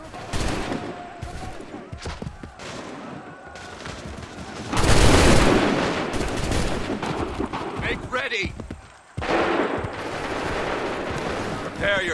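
Musket volleys crash out in Assassin's Creed 3, a line of Revolutionary War muskets firing in repeated loud bursts amid shouted commands and battle din, with a big close volley near the middle.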